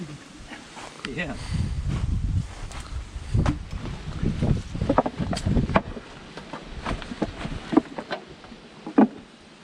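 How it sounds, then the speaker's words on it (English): Gusty wind buffets the microphone outdoors during a bee swarm capture, rumbling low and uneven throughout under close conversation between two people and handling noises. "Wish it wasn't so windy."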